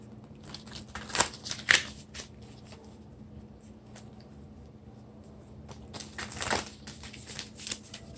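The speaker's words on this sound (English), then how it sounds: "One more shuffle." Tarot cards are shuffled close by, a soft continuous riffling and sliding with a few sharper snaps, over a low steady hum.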